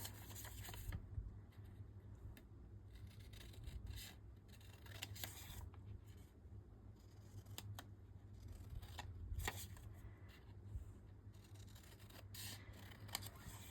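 Scissors snipping through paper while trimming handmade Christmas gift tags, a quiet series of short, irregular cuts close by over a steady low hum, with no talking.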